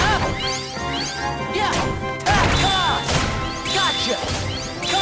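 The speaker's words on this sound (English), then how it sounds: "This is a very odd way of training. Just smashing a bunch of pots." Pots smash repeatedly in the video game Kingdom Hearts Birth By Sleep, a rapid run of loud crashing, shattering hits with swishing strikes between them, busy and close throughout.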